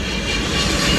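An airplane passes overhead outdoors, a steady, broad roar of engine noise that fills the moment at fairly even loudness.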